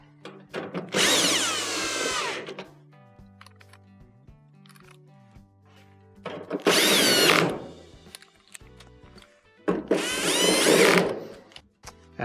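A power drill drives the three screws holding the back panel onto a Whirlpool dryer, three loud bursts of whirring with quiet gaps between them, close by and with no talk.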